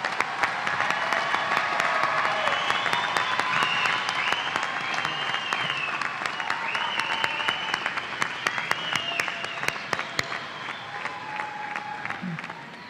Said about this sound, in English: Please join me in recognizing these impressive individuals for their accomplishments by offering them a round of applause.